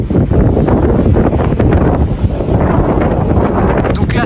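Strong gusting wind buffets the microphone in the Andean village of Tuti at 3,900 metres, a loud continuous roar with no letup.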